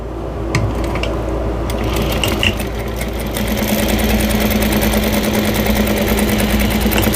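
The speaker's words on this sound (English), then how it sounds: "Back stitching at the beginning and the end" A sewing machine runs steadily, back stitching a fabric towel hanger, with a loud, continuous rapid mechanical chatter close by and a slight rise in speed partway through.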